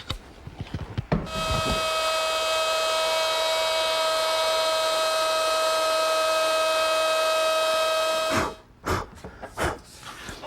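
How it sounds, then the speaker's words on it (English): A router with a straight cutting bit trims excess material from a cherry bathroom vanity workpiece, a loud sustained high whine of about seven seconds, preceded and followed by brief handling knocks and spin-up and spin-down. "using my router with a straight cutting bit, I can trim off the excess material."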